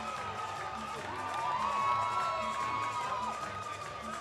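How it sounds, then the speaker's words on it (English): A sold-out crowd at Monona Terrace roars and cheers after a first-round chokehold finish at a mixed martial arts fight night, a sustained wash of shouts and whoops that swells in the middle. "to the thunderous roar of the sold-out crowd here at Monona Terrace"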